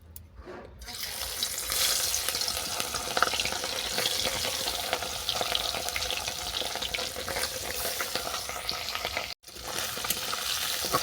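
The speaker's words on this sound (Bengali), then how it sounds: "মাছগুলো আমি সাবধানে উল্টে পাল্টে বাদামি করে ভেজে নিচ্ছি" Puti fish, rubbed with salt and turmeric, frying in hot mustard oil in a karahi; a dense, steady sizzle carries on without pause, close and fairly loud, with no voice over it.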